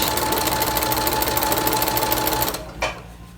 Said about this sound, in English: Need to back stitch, forward stitch.